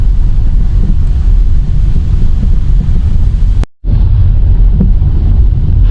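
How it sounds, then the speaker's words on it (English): Strong wind roars through thick woods at a campground, a loud, continuous gusty rush with one abrupt brief dropout near the end. "Look at that wind blow today."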